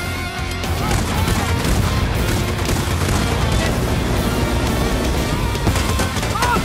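Explosions and blasts from a video game in the style of an action TV show, a dense, loud and continuous rumble of booms and crashing debris with no pauses, filling the whole stretch.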